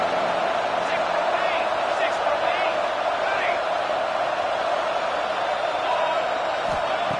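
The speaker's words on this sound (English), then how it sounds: "the crowd really making some noise now, trying to help out this defense to get this stop near the goal line" Football stadium crowd at the Arkansas SEC Championship game roaring as the defense tries for a goal-line stop, a steady dense wall of cheering and noise throughout.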